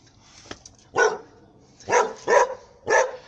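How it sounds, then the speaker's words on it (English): A dog barking indoors, four loud, close barks in an irregular sequence after a faint short yelp, with quiet pauses between them and no voices. "As you can probably hear, my dog is barking."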